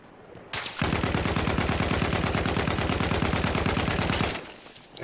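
Sustained automatic gunfire in Battlefield 1, a rapid unbroken stream of shots lasting several seconds, loud and close, then stopping abruptly.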